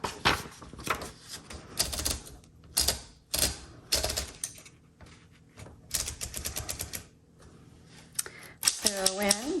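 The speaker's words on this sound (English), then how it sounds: "I got to my margin, the bell went off saying, hey, you need to hit that return handle" A 1940 Corona Comet manual typewriter clacks in irregular bursts of keystrokes. Near the end a sharp ding marks the margin, followed by the ratcheting carriage return.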